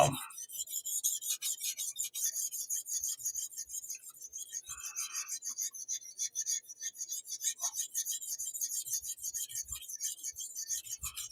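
A knife blade is drawn across a 400 grit whetstone in a steady rhythm of rasping strokes, close and fairly quiet, with no talk over it.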